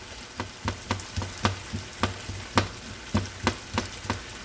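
Steak frying with Marsala wine in a stir fry with onions and peppers, heard as a soft sizzle with repeated light taps and clacks at an even beat, fairly faint, with no talking.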